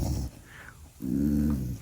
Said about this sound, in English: Ooh, hound dog.